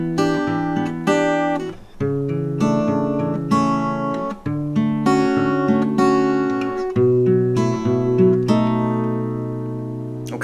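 An acoustic guitar with a capo plays the plucking pattern for a song, a steady repeating cycle of plucked notes and chords that ring out clearly with no voice over them.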